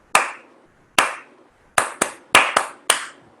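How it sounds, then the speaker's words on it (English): Bare hands clapping out a short rhythm, seven crisp, close claps with uneven gaps that include two quick pairs, heard alone with no talk. "This is how he clapped."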